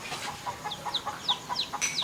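Soft, quick clucks and chirpy calls repeat in a loose rhythm, fairly faint and close, with no talking.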